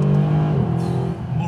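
A Mercedes SLS supercar engine hums steadily at a sustained pitch while driving laps, heard inside the car beneath someone talking throughout.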